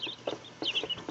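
Silkie chicks peep in a steady stream of high, thin chirps, close by and fairly quiet, with no talking over them.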